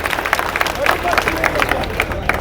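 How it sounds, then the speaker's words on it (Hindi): An audience claps at a speech event, with dense, quick, scattered hand claps and some crowd noise in the background. "एक बार जोरदार ताली बजाइए साबिर साहब के लिए"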